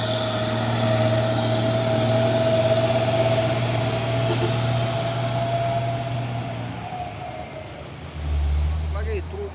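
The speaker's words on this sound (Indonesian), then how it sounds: "Lagi truk tangki CPO" A CPO tanker truck with a Euro 4 engine passing on a road, a loud steady diesel drone close by that fades slightly as it goes, with a voice talking over it near the end.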